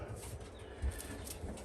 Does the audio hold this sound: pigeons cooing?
yes